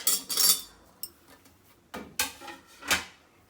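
Raw chopped mixed vegetables tumble into a pressure cooker in several sharp clattering bursts, with metallic clinks and scrapes between the drops, close and fairly loud.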